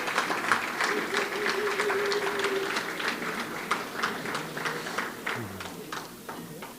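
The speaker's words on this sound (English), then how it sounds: "Let's give a round of applause to these fine gentlemen" Applause from a conference audience honouring the speakers, dense steady clapping that fades gradually, with a few faint voices underneath.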